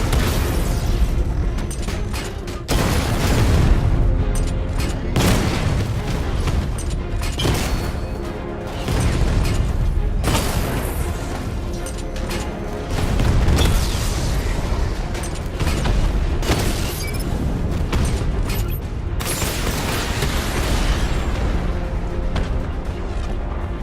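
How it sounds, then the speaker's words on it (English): Heavy booms and explosive bursts from a Batmobile's 60mm tank cannon in the Arkham Knight video game, loud and repeated over a dense mechanical din, with no voices on top. "Your 60mm cannon will penetrate these heavily armored units, but it'll take a few direct hits to destroy them"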